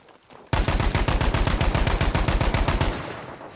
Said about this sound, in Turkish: Silah sesine bakın arkadaşlar